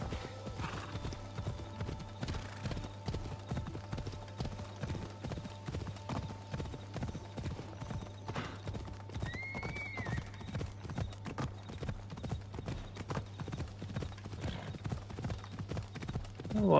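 Horse hooves clip-clop at a steady trot in the video game Assassin's Creed Odyssey, close and rhythmic throughout, with a brief whinny midway and soft game ambience beneath.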